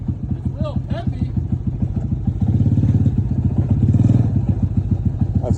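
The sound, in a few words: engine idling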